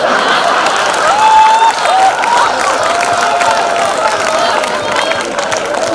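Live audience at a Hindi stage comedy show by Dinesh Bawra breaking into sustained clapping and cheering, a dense crowd wash holding steady for several seconds, with scattered laughter and whoops mixed through.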